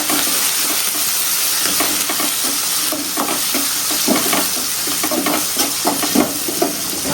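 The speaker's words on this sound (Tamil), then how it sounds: "நல்லா வதக்கிக்கணும்." Goat intestine curry ingredients, curry leaves and coriander among them, sauté in a hot pan with a steady loud sizzle and occasional stirring scrapes throughout, no talking.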